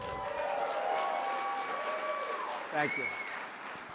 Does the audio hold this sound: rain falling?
no